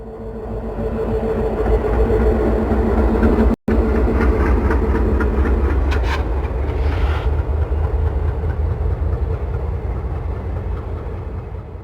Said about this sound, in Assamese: ট্ৰেইনখন যেতিয়া যায় ইমান স্পীডত, ইমান হৰণ দি পেলাই যায়